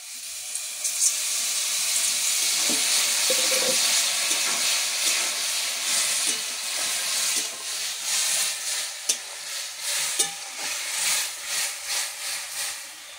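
Tomatoes cooking in a pan burst into a loud, broad sizzle as water is poured in. The hiss holds steady, then softens into bubbling with occasional stirring scrapes and knocks close by.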